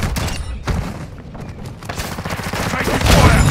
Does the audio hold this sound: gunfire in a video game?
yes